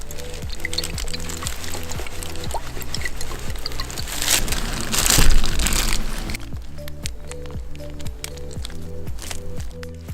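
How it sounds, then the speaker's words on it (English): Worcestershire sauce and ketchup pour onto ground meat with black pepper for mini burger sliders, a wet glugging trickle that swells midway and then eases, heard close with light background hum and no talk. "season the meat with black pepper, Worcestershire sauce, and ketchup"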